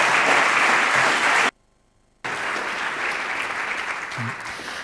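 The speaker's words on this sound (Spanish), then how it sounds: "Un fuerte aplauso para Francis" An audience at a Pi Day 2024 lecture on prime numbers gives a strong burst of clapping that drops to a near-silent pause, then resumes as a sustained, even round of applause.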